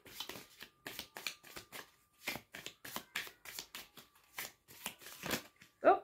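Oracle cards riffled and shuffled in quick, crisp bursts up close, ending with a louder snap as one card flips out of the deck.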